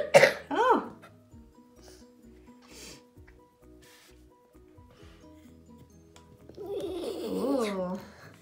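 A child coughs a couple of times close by while playing with a Play-Doh kitchen cake set. Quiet plastic handling sounds follow, then a voice talks near the end.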